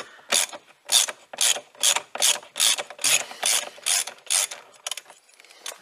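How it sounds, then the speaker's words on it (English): A ratchet with a 24mm socket works the steering wheel nut of a Ford Ranger pickup, making about a dozen evenly spaced bursts of crisp, close clicking in a steady rhythm. "I've got a 24mm socket"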